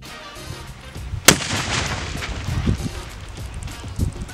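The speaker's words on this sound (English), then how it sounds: "it's safe to say that the Fanta bomb worked because it sent fragmentation everywhere" Improvised Ukrainian Fanta-bottle bomb detonating outdoors: one sharp blast followed by a rolling, rumbling roar and wind noise, loud and fairly close.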